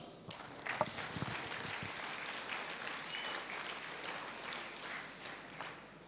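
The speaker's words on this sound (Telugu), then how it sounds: "ఒకసారి వీళ్ళకి క్లాప్స్ ఇద్దాం" An audience at a Vestige business meeting gives a round of applause, steady dense clapping from many hands for several seconds, fairly distant and even.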